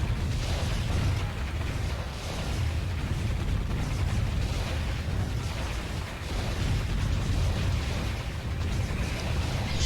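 Dense, continuous rumble of cannon towers firing and explosions in the video game Warzone 2100, booming steadily and loudly throughout with no pauses.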